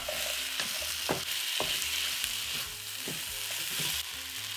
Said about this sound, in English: Add in the carrots.